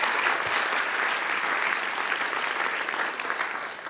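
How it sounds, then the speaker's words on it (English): Sustained audience applause at a drug-development conference session, a dense, even wash of clapping from a sizeable crowd that holds steady for several seconds and then slightly fades. "Let's give them a round of applause"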